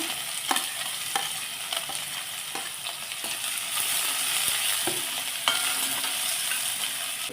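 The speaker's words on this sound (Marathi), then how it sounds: "कढीपत्ता हिरवी मिरची आणि जिरे मोहरीची फोडणी चांगली बसली ना" Curry leaves, green chillies, cumin, mustard seeds and onion frying in hot oil for a tempering for chapati chivda, a steady close sizzle with occasional sharp pops and stirring clinks throughout.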